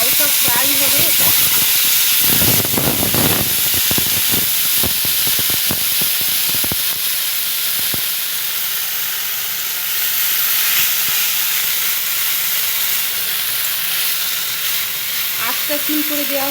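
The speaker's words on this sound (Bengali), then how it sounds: "এই যে বরবটিটা দেওয়া হয়ে গেলে একটু হালকা ফ্রাই হবে এটা।" Yardlong beans fry lightly in a pan with a steady close sizzle and hiss, with stirring clatter near the start and someone speaking over it.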